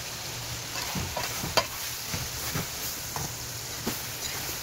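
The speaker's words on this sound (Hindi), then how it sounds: "इसको 5 से 8 मिनट के लिए हम भूनेंगे।" Mutton frying with tomatoes in a pot for yakhni pulao, a steady low sizzle broken by scattered stirring scrapes and clinks, fairly quiet and steady, with no voices.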